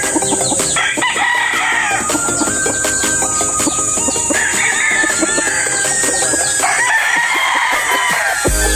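A Kearney White Hackle gamefowl rooster, straight comb, crows loudly and close several times in long drawn-out calls, with clucking and other fowl sounds steady in the background.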